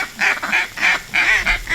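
Ducks and geese calling over a decoy spread on a Mississippi Delta mallard hunt, a string of loud, nasal honks and quacks repeating in quick bursts, fairly close and with no one talking.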